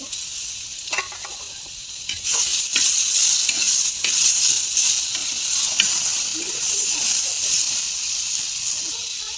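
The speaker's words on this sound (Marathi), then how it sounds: "आता आपल्याला टमाटर थोडंसं भाजून करायचं, भाजून घ्यायचं" Tomatoes roast in a hot pan for a chhole bhaji, hissing and sizzling steadily throughout, close and fairly loud, with occasional stirring knocks and scrapes.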